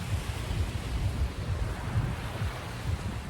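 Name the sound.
waves and wind at Playa Las Colorados beach, Lanzarote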